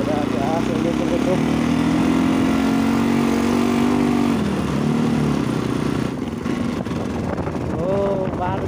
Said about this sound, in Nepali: एक त अब उताबाट बाइकहरू आएको आएको